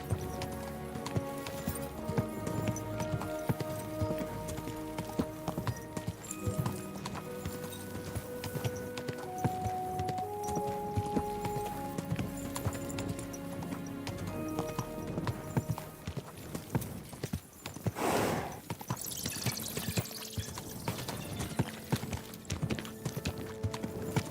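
Steady clip-clop of horse hooves in Kingdom Come: Deliverance II, a continuous walking rhythm under layered game music, with a short burst of noise near the end.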